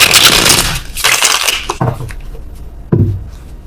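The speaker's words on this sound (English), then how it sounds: "worst shuffling in the world" Tarot cards being shuffled by hand, a dense papery riffling and crunching that runs loud for nearly two seconds, then trails off into a few scattered soft taps and one last sharp card slap.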